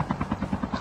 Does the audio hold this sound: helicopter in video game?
yes